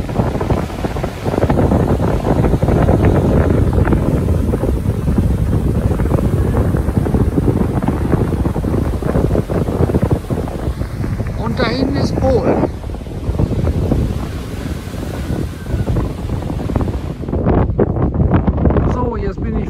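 Strong wind buffets the microphone on Heringsdorf pier on the Baltic coast, with sea waves rushing underneath in a continuous roar; a voice speaks briefly over the noise.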